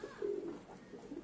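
Soft, low cooing of a desi pigeon, a couple of rounded hoots close by over a faint background hiss.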